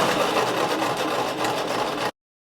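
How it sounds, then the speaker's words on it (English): A domestic sewing machine stitches the sleeve seam of a duster coat with a steady, close whirring that runs without a break for about two seconds and then cuts off. "Go ahead and lower your needle, begin sewing, and backstitch"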